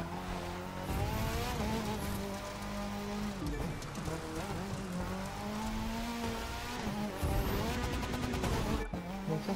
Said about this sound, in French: Écoute ce que dit ton moteur